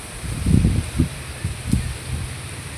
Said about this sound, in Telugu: చల్లటి గాలి.